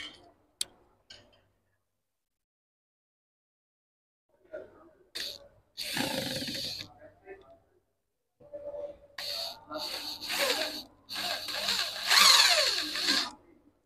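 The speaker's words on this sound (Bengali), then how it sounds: "অল্প সময়ের ভিতরেই এই স্ক্রু খুলে যায় এবং স্ক্রু লাগানো যায়।" An ACI Smart electric drill drives a screw in several short bursts of whirring, separated by pauses, with a few faint clicks before it starts.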